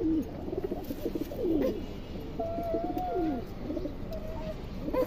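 A large red silver pigeon coos in repeated rolling, throaty phrases, close and fairly loud, with a few faint chirps from other birds behind it.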